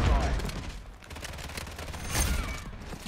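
Call of Duty gunfire crackles in loud, dense bursts, with a heavy volley at the start and another surge near the end over a noisy battle bed.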